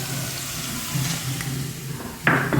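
A cup of tomato ketchup hits a pan of fried garlic, a soft steady sizzle that flares into a sharper, louder hiss near the end as it lands, with no talk.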